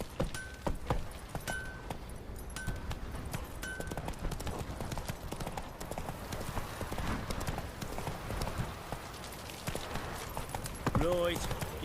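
Roach's hooves clop in a brisk, even rhythm throughout in The Witcher 3, close and clear, with voices talking over parts of it and a brief neigh near the end.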